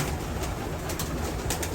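Racing pigeons coo in a stock loft, soft overlapping throaty calls repeating close by over steady low background noise, with no talking.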